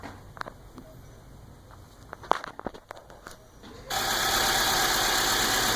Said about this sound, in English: I'm going to start the car up, turn the AC on